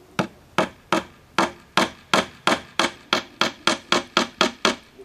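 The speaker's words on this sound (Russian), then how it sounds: "забиваем пару гвоздей" Nails driven into a piece of plywood with a hammer: about fifteen sharp, ringing blows in a steady, quickening rhythm, close and loud with no talking.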